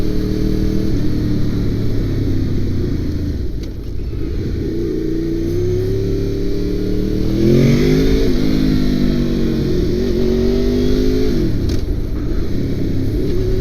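A 2002 Honda VFR800 motorcycle engine drones loud and close, its pitch rising under acceleration, dropping, then climbing again as gears change during a ride.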